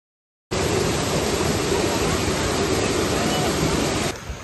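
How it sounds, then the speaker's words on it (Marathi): Waterfall at Gupt Bhimashankar in misty monsoon hills: a sudden, loud, continuous rushing roar of falling water starts after a brief silence and holds steadily, then drops near the end, with no talk over it. "तर तो धबधबा आहे ना तिथे"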